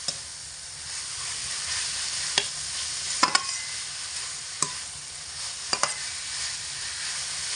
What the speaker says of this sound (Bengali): এইভাবে অনবরত নাড়াচাড়া করে আলুর মধ্যে মশলা খুব ভালো করে মিশিয়ে নিতে হবে।